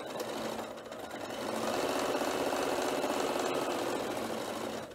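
A sewing machine stitches the lining of a sequin pencil case in a fast, continuous whirring chatter, running steadily close by for a few seconds with no talking.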